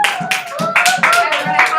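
A classroom of students claps together in a short, fast burst of sharp hand claps, close and loud, lasting just under two seconds.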